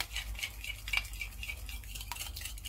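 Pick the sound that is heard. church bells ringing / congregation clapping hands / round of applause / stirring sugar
stirring sugar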